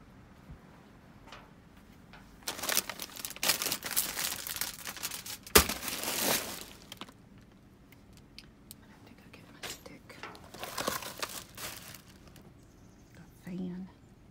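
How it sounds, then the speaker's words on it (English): Wrapping paper from a dumpster crinkles and rustles in several bursts, loud crumpling handled up close with quieter gaps between, and faint ticks and taps in the background. "Wrapping paper."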